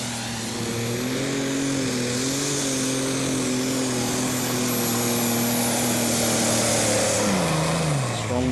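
Superstock pulling tractor BE Combi Incredible Deer at the 2014 Eurocup tractor pulling in Brande, Denmark, roaring loudly down the track, a steady turbocharged engine drone with a rising whine that holds throughout and drops in pitch near the end.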